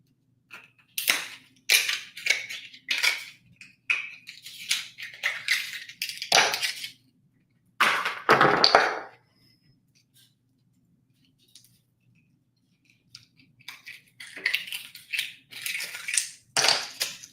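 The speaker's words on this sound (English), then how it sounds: "I love the sound when the hinge pops, that popping sound." A series of sharp, crisp pops and crackles close by as oyster shell hinges pop open during shucking, some in quick clusters, with a louder burst midway and quiet gaps between.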